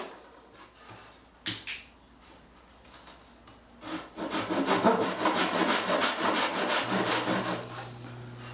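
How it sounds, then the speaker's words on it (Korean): A Japanese dozuki pull saw cuts through spare ukulele top wood to rough out rosette pieces, a few scattered strokes at first, then steady close rasping strokes that build and continue without voices. "등대기 톱을 이용해서 조금 여유있게 잘라줍니다."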